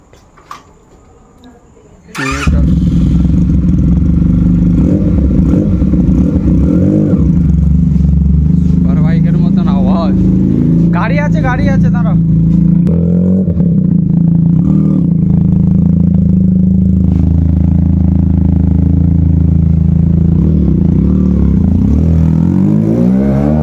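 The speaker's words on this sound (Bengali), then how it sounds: "পুরো সুপার বাইকের মতো আওয়াজ" A motorcycle engine starts abruptly after a short quiet moment, then runs and revs loudly and steadily close by, with a throaty superbike-like roar throughout and occasional rises in pitch.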